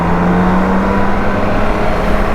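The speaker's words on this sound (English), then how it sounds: "Got a boxer engine in front, which is the R90T." A BMW R90T boxer-engine motorcycle runs loud and near, its engine note holding a steady, throaty drone with a slight rise in pitch early on. No voices.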